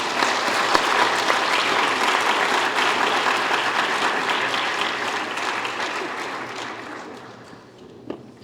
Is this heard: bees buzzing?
no